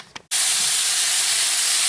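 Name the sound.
steaks sizzling in hot pan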